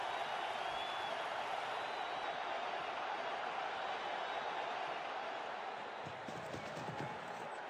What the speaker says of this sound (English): Crowd's gone mad.